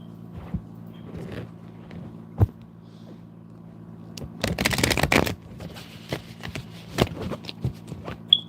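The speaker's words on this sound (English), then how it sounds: "These cards are really stiff, so they're kind of hard for me to shuffle and fan them like this" Stiff oracle cards shuffled and fanned by hand, a soft papery riffle with a dense burst of flicking in the middle and scattered slaps and taps around it, close and fairly quiet over a low steady hum.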